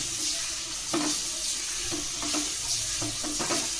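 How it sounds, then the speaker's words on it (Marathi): A spoon stirs raw mango chutney in a hot pan on the stove, scraping in regular strokes about a second apart over a continuous sizzle, close and alone without speech. "आता आपण ह्याला असं चमच्यानं मिक्स करूया"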